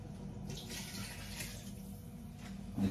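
Tap water running steadily into a cooking pot while making Filipino beef nilaga soup, a continuous close splashing stream with no talk over it.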